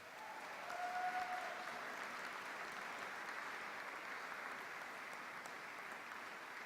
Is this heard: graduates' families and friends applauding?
yes